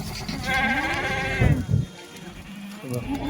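A Kathiawadi sheep bleats in a long wavering cry, followed by a few low thumps and a shorter bleat near the end, with faint background noise.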